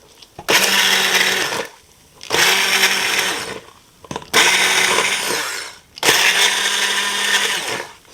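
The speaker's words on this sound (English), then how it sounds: "I'm going to use my immerger blender to blend a little more of the beans" An immersion blender runs through white bean and kale soup, breaking up the beans in four loud, sustained bursts of roughly a second each, with short quiet gaps between them.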